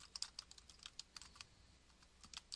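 Rapid, light keystrokes on a computer keyboard tap in an irregular burst, quiet and close, with no voices.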